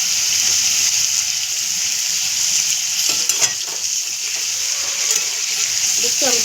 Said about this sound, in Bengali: দেখছো আমি চিকেনটা কিন্তু ভেজে নিচ্ছি